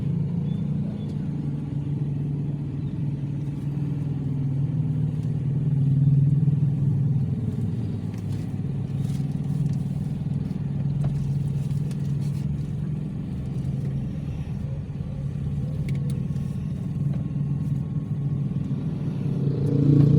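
Steady low rumble of road traffic heard from inside a car on a long drive from Samar to Bulacan via Northern Samar, a continuous engine and tyre drone with occasional clatter, with people talking over it.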